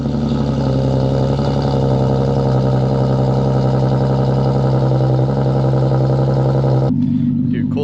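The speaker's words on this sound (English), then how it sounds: "Cold start sounding fantastic today." Infiniti G37 engine idling after a cold start, following an engine swap, a steady, close, droning hum that holds evenly before cutting off abruptly near the end.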